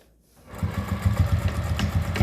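A sewing machine stitches elastic onto a fabric face mask, starting after a brief silence and then running in a quick, rhythmic mechanical chatter close up, loud and steady to the end.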